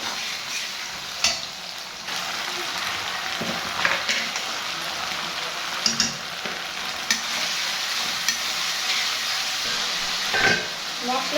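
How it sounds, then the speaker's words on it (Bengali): Spices sizzle steadily while being sautéed for a fish curry with potato and eggplant, with occasional clinks and scrapes of a spoon stirring the pan and a faint voice now and then. "মশলাটা কিন্তু খুব ভালোভাবে কষিয়ে দিয়েছি"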